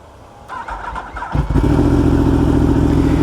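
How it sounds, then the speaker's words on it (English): A Yamaha R1M sport motorcycle's 998 cc inline-four engine with a full Akrapovic exhaust starts with a rough crank, then settles into a loud, steady, close-up idle rumble with a slight rev. "998, inline 4."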